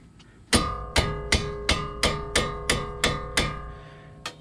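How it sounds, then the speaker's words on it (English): A mallet strikes a wrench on a 14 millimeter Honda brake caliper bolt with nine sharp, ringing metallic blows at an even, steady pace, each one decaying quickly. The blows are close and loud, with no speech. "I don't like to use my hands to break stuff loose, so I use a mallet."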